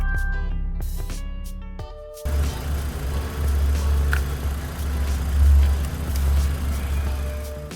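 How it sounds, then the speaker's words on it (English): A Kia Cerato Forte engine catches after a jump start from a power bank, then settles into a steady low idle hum that continues alone for several seconds. "I have successfully fired up my engine."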